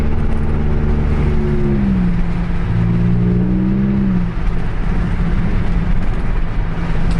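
A Chevy Impala LT with a 3.9L V6 and straight-pipe exhaust accelerates on the road, its loud, droning engine note climbing and holding through the gears over steady road and wind noise.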